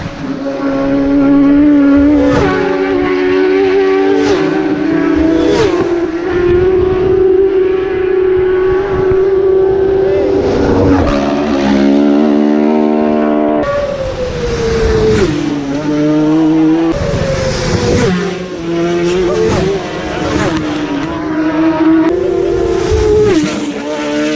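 Racing motorcycles at the Isle of Man TT road race scream past one after another, a loud, high engine whine that rises and drops sharply in pitch as each bike passes close by.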